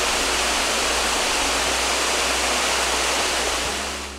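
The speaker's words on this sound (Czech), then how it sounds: "A my právě přicházíme k prvním vodopádům, který se nazývají Point Lace Waterfalls." Point Lace Falls on the Iceline Trail pours in a dense, unbroken roar of falling water, loud and steady throughout, with no voices over it.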